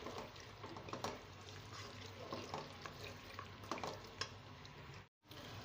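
Minced meat keema masala stirred and fried in a pan, a steady sizzle broken by spoon scrapes and clicks against the metal, with a brief drop to silence near the end.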